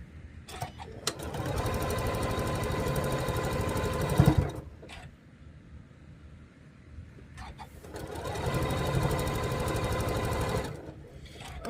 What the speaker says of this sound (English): We're going to sew, nest those seams.